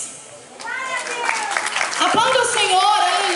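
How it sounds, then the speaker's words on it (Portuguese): A church congregation claps in continuous applause that swells toward the end, under a voice speaking over it. "Aplauda o Senhor, aleluia, glória a Deus."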